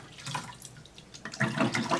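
Water splashes and runs as a cap and ball revolver cylinder, nipples still fitted, is rinsed in a small pan, with brief trickling bursts that build to a fuller pour near the end.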